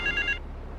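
A telephone rings in Grand Theft Auto 3, three quick electronic trill bursts in a row, then stops, leaving a low steady hum underneath.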